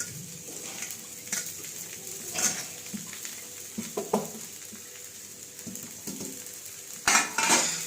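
Sago pearls are tipped into a pan of potatoes and peanuts, giving a low sizzle under clinks and scrapes of a metal spoon against the pan, a few sharper knocks standing out.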